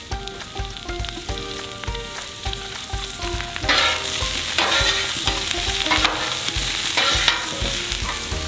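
Chopped Brussels sprouts tossed with onion and garlic in butter on a Blackstone flat top grill, a loud, even sizzle that swells partway through with bursts of spatula stirring, over a steady tonal background.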